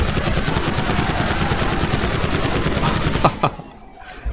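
Rapid sustained automatic gunfire from GTA 5, a dense loud stream of shots lasting about three seconds, then a couple of sharp single reports before it drops to quiet.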